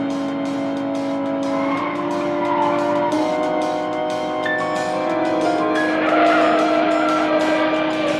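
A police car chasing a suspect, its engine roaring and its tires squealing in long sustained screeches that shift in pitch, loud and close throughout with no talking.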